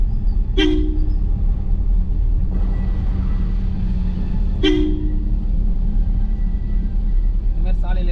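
A car horn toots twice in short blasts, several seconds apart, over a loud steady engine rumble while driving on a village road, with a brief third beep at the end.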